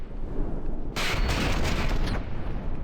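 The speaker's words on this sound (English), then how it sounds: "look at that, we have mortars coming in here" Incoming mortar rounds in From the Depths, a loud burst of booming gunfire that swells suddenly, holds for about a second under a high whistling tone, then drops back to a rumbling background.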